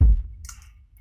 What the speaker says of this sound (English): and the sub sounds like this